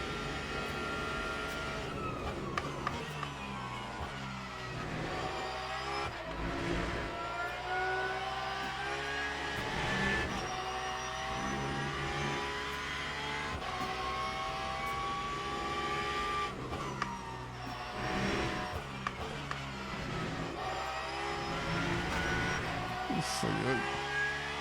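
Race cars lapping the short Imola circuit in the Le Mans Ultimate sim, steady engine drone with shifting pitch sweeps as gears change, continuous and fairly close under someone talking.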